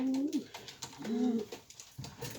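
Pet birds coo indoors, giving a few soft, rolling coos close by with short pauses between them.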